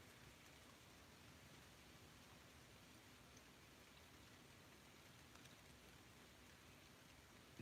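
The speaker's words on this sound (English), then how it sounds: "I hear rain." Steady, soft rain patters continuously as a quiet, even hiss with no voices, ending in one faint bump.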